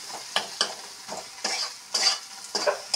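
Dried fish fries with garlic, onion and chili in a pan, sizzling steadily while about six rhythmic, scraping stir strokes sweep through it one after another.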